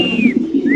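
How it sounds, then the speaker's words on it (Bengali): A black exhibition hen pigeon gives a single short, low, throaty coo, close by and fairly loud, with a faint thin whistle above it. "এটা একটা কালো এক্সিবিশন মাদি কবুতর"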